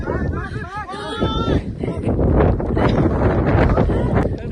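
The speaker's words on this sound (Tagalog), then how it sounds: "Lakas ng hangin." Strong wind buffets the microphone in loud, rough gusts on the summit of Mount Namogokan in Ilocos Sur, Philippines, with a voice speaking briefly early on.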